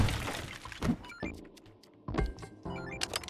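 A bomb going off in the top-down action game Eastward, a heavy thunk with a crunchy, breaking burst, followed by a second impact a second later amid game music and effects.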